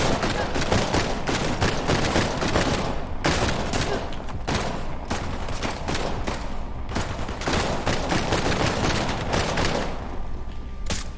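Dense bursts of gunfire and sniper shots from the video game Uncharted: The Lost Legacy, loud and continuous with rapid overlapping cracks and booms filling the whole stretch.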